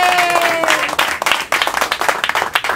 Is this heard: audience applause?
yes